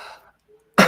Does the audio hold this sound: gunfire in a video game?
no